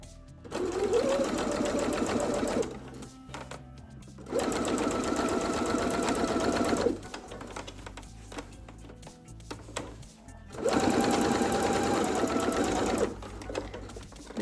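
A domestic sewing machine stitching a school satchel, running in three sustained bursts of rapid mechanical whirring and needle chatter separated by pauses with quiet handling sounds.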